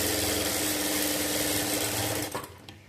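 A sewing machine stitches along a fabric edge during a blouse tailoring lesson, giving a loud, steady, rapid whirring hum up close that slows and cuts off near the end.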